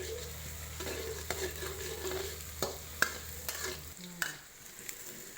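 Garlic and minced pork stir-fry in a pan for a Thai long-eggplant dish, a soft sizzle broken by regular scrapes and taps of a spatula, fairly quiet and close, with no talking.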